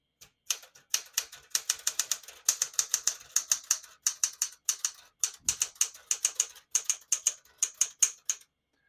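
Typing on a 1973 Smith-Corona Galaxie Twelve manual portable typewriter: rapid bursts of crisp metallic key strikes in quick uneven runs, close up and alone, with a dull thud partway through.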